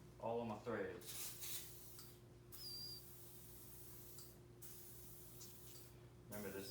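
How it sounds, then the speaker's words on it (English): PB Blaster penetrating oil sprays from an aerosol can onto the threads of a MoJack mower lift in several bursts of hissing, close by and fairly quiet, separated by short pauses. "So now what I'm gonna do is take my PV blaster and I'm gonna spray it all on my threads."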